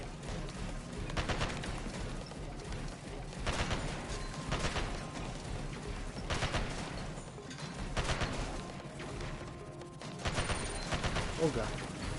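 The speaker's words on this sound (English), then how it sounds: "I'm over here just strafe shooting." Gunfire from strafe shooting in the video game Sand Land: repeated bursts of shots over steady vehicle and battle rumble, moderately loud, with talk over it.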